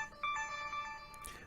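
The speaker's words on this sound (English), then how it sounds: "my phone went off." A mobile phone ringtone goes off, playing a short, bright electronic melody of sustained tones that shift pitch over about a second and a half, at moderate volume and close by, with no talking over it.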